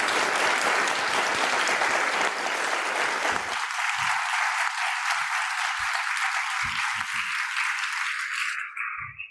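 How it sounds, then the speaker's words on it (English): An audience at a climate change panel event applauds the panelists, a loud dense round of clapping that thins after a few seconds to scattered claps before fading out. "if we can give a round of applause to all of our panelists today and also to all of you"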